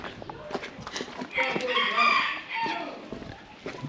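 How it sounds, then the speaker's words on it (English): A rooster crows loudly nearby in rural Phôngsali, Laos, its long strained call rising and falling, with some chatter and other background sounds mixed around it. "Rooster's got nothing better to do except to tell the world that he's here."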